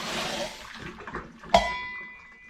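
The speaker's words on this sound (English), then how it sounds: "Get rid of the water there." Water from a rolling boil is tipped out of a small pot used on an MSR Pocket Rocket Deluxe camping stove, a brief splash and trickle followed by a sharp metallic clink as the pot is set down.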